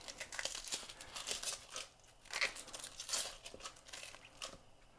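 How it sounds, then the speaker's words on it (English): An onion being peeled by hand after diagonal knife cuts, with close dry papery crinkling and tearing in irregular bursts and brief pauses, no talking. "peel and dress an onion fast"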